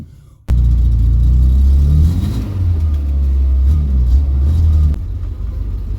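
A barn-find Vauxhall Viva under restoration starts up with a sudden loud roar. Its engine then rumbles and revs unevenly on a test drive, with pitch rising and falling, before it settles to a lower idle near the end.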